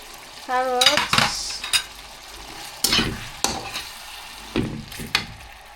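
Carrots drop into a pan of soft boiled meat for Singapore-style noodles, setting off bursts of sizzling frying and clattering utensil stirs against the pan, loud and close, with short quiet gaps between them.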